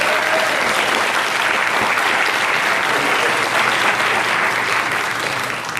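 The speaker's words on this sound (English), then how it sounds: "So give this team a round of applause." A crowd at a winter/spring sports awards ceremony applauds the tennis team with loud, steady, dense clapping that fills the room for the whole stretch and dips slightly at the end.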